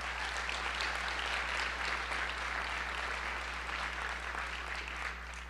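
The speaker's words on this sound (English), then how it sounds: "Let's give a round of applause for Dale." An audience at the Monroe town hall meeting claps for a state representative, producing an even, moderately quiet round of applause over a steady low electrical hum, fading slightly at the close.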